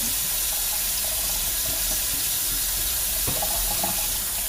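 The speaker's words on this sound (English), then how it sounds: "I'm gonna wash my hands real quick" Hands being washed under a running kitchen tap, a loud, steady stream of water splashing into the sink with slight shifts as the hands move, no talking.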